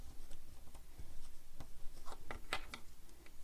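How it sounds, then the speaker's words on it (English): A flat screwdriver pushes a zipper into a sewn backpack, giving a close series of short scratchy rubbing and ticking strokes that get busier and sharper toward the end. "I'll use my flat screwdriver to push the zipper in"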